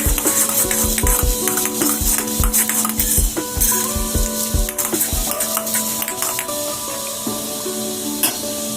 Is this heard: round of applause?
no